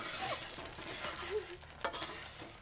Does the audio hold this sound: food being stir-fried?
yes